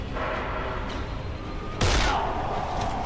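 Gunfire in the zombie video game Dead Island: a steady rumble of game ambience, then a sharp loud shot-like burst near the end that rings on, with no talk over it.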